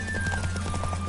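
Roach, a horse in The Witcher 3, gallops in a race with steady clip-clop hoofbeats over a constant low game hum and a thin steady tone.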